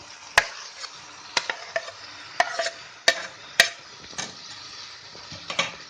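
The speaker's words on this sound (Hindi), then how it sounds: "अब इसको अच्छी तरह से हमें मिक्स करना है।" Mashed brinjal bharta mixed in a hot kadhai: scattered sharp spoon clacks and scrapes against the pan at an irregular pace, close, over a soft background sizzle.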